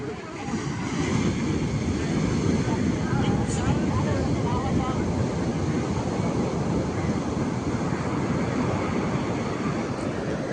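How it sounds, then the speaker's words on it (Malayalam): Surf breaks on Neerodi beach as a continuous, loud, close roar of crashing waves and rushing water, with wind buffeting the microphone and no clear pauses between breakers. "എന്തുമാത്രം പൊക്കത്തിലാണ് തിരമാല അടിക്കുന്നത്"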